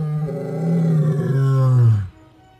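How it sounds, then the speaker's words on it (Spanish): A lion in the Sabi Sand bush gives a single loud, close roar, a deep drawn-out bellow with rising then falling tone that cuts off abruptly, followed by near silence. "el simple sonido de su rugido significaba el fin"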